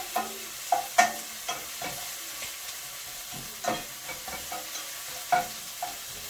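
Onions sautéing in a frying pan with a little oil, a constant close sizzle broken by repeated scraping stirs and clinks of the utensil against the pan.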